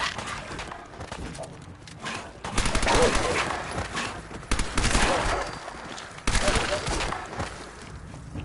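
A tricked-out Tommy gun fires in the Fallout 4 video game during a fight with wild dogs, with rapid bursts of automatic gunfire coming in several loud, dense volleys over game noise.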